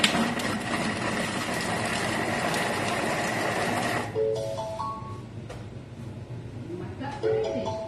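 Thermomix whirring loudly as it mixes cucumber for tzatziki for about four seconds, then stopping with a few electronic beeps while a person talks over it.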